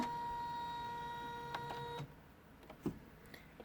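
An embroidery machine stitches steadily with a faint whirring hum, then pauses, leaving only small clicks and handling noises.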